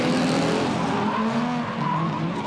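The Hi-Tec 350 race car screaming around the top of the track, a loud, close, high-revving engine whine with shifting pitch held throughout a short burst.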